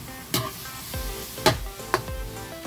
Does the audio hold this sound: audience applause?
no